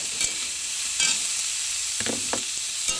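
Beans fry in a pan as the first step of a vegetable soup, giving a continuous hiss with a few brief scrapes and stirring clatters scattered through.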